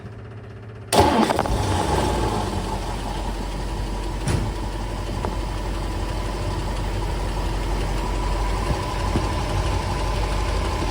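A 1957 Lincoln 368 Y-block V8 cranks and catches after about a second, then settles into a steady, fairly loud idle that rumbles on to the end with one brief click midway.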